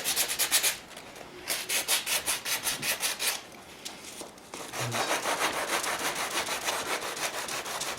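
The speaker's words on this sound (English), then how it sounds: "Sand this a little bit." Sanding a super-glued plastic joint by hand produces rapid back-and-forth abrasive rasps in quick bursts, with brief pauses between strokes, close and fairly loud.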